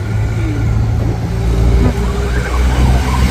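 Vehicle engine drone while riding along a mountain road, a loud steady low rumble with wind and road noise, continuous and close, with slight pitch shifts.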